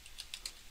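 Three quick keystrokes on a computer keyboard as a web address is typed in, soft clicks spaced a little apart over quiet background hiss.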